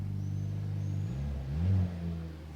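A Mercedes-AMG engine and exhaust heard from outside the car: a steady low idle rumble, then a rev that swells and falls away, with no talk.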